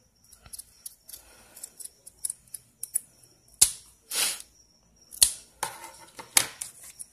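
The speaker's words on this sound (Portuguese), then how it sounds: "Agora eu acho que cortei demais." Scissors cut material close by in irregular snips, mostly quiet and crisp, with a few louder, longer slicing strokes in the middle and near the end.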